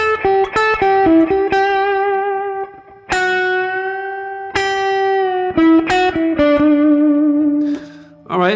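Electric blues guitar lick built on the major scale, sliding up into the major third, a string of picked notes with long held tones and bends, loud, alone and washed in light effects.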